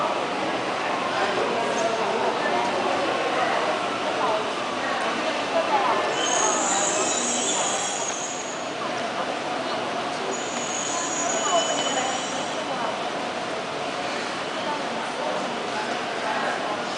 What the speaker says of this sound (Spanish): Ahí está llegando el tren.